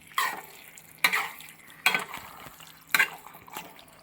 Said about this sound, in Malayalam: ഇങ്ങനെയായിട്ട് നന്നായിട്ട് ഇളക്കി അടിയിൽ നിന്ന്